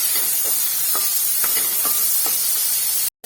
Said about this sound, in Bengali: আর আমি এর মধ্যে একটু টোফুটা ঢেলে দিচ্ছি। তো একটুখানি এটা নাড়াচাড়া করে নিই।